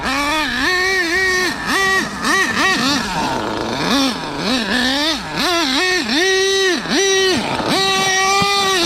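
An Exceed Madstorm nitro RC car fitted with an HPI Savage motor screams loudly and close, revving up and down again and again in sharp, buzzy bursts as the throttle is blipped during its first run.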